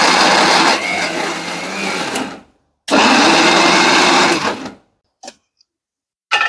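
An electric kitchen mixer grinder runs in two loud, whirring bursts of a couple of seconds each, separated by a brief silence, then gives a few short pulses.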